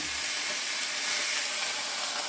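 A roast sears in a hot skillet with a steady, loud sizzling hiss that stays constant throughout, no voices.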